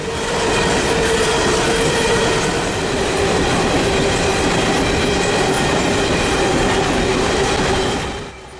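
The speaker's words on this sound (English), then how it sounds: "eastbound unit train of coal empties running from Kamloops to Sparwood" An eastbound unit train of empty coal cars on a mountain line in British Columbia rolls steadily past up close, a continuous loud rumble of wheels and car noise with faint squeal, fading slightly at the very end.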